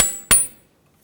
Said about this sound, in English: We just used a punch and a hammer to pop that band off